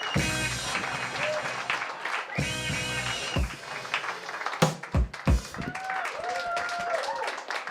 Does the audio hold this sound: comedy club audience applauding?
yes